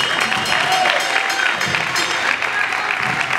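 Applause from a concert audience after a band's bass player and singer is introduced at a live rock show, a dense steady clatter of many hands, loud and continuous, with no talk over it.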